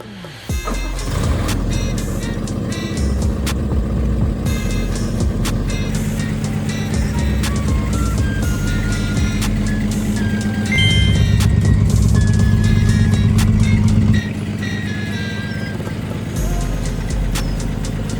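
A 1958 Chevy Apache truck engine rumbles steadily and close for a long stretch, its low drone swelling louder midway as the truck approaches, with faint beeps and clicks.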